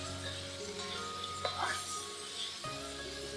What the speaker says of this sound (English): Now we're going to fry these for a couple minutes as well.